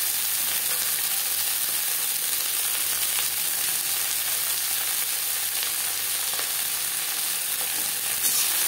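Eggplant and finely chopped brahmi greens frying together in a pan over medium flame, a steady close broadband sizzle running throughout with faint scraping and stirring clicks.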